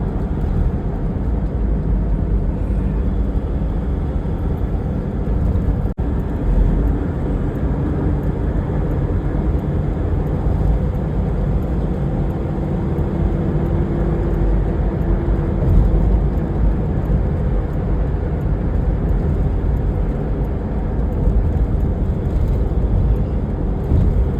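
Steady traffic on the Mumbai-Goa highway near the Kashedi tunnel, a continuous broadband roar of engines and tires with passing vehicles swelling and fading, no voices.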